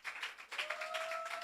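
A church congregation at a Sunday prayer service applauds and cheers in a steady, moderately loud wash of clapping, with a sustained tone holding underneath.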